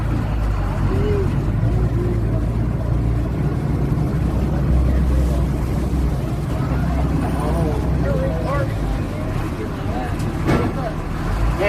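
A low, steady engine drone of an amphibious duck boat entering the Wisconsin River, with churning water noise throughout, and voices talking intermittently over the rumble.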